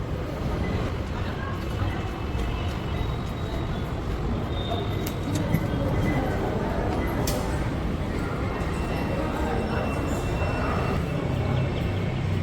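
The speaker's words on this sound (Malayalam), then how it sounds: "വ്യത്യസ്തമായിട്ടുള്ള മെട്രോ കേട്ടോ. തുരങ്കത്തിൻ്റെ ഉള്ളിൽ കൂടെ പോലെയുണ്ട്." A crowded Bangalore metro train runs through an underground tunnel, giving a steady, close rumble with brief squeals and clicks, and voices murmur in the carriage throughout.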